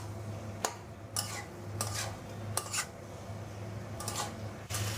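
Green jackfruit stir-fries with spices in a pot, a quiet low sizzle running under a series of sharp scraping and clinking strokes from a spoon or spatula, several spaced a second or so apart.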